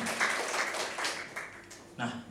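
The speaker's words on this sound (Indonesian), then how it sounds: "Tepuk tangan yang meriah bagi Tuhan kita" Congregation clapping during a church sermon, a faint, steady broadband patter lasting a couple of seconds, with a voice talking over it.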